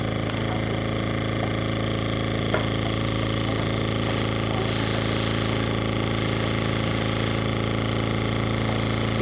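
An air compressor runs loudly and steadily close by, a dense rapid mechanical hammering with a constant motor hum and a few brief clicks, with no talking.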